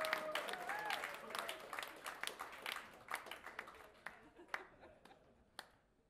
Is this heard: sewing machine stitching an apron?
no